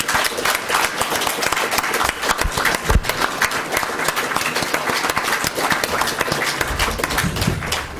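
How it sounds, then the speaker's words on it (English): A convention audience applauding to welcome a guest onto the stage, dense sustained clapping from a sizeable crowd that holds steady for several seconds and is heard alone. "So please a round of applause to welcome Jeremy to the stage."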